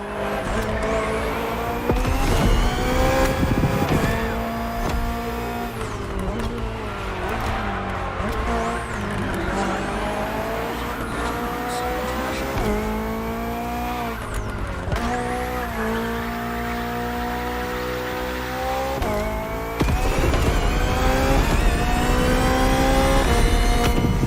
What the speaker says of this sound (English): Just focus on being the best. The hybrid V8 will do the rest.